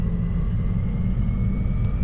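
A hybrid Heuliez Access city bus engine starts in OMSI 2, giving a steady, loud low rumble and whine close by that holds evenly with no speech.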